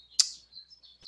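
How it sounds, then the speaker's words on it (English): Pet birds chirping indoors: a sharp high chirp followed by a few softer thin tweets, faint and close, in otherwise quiet room. "you can hear my birds"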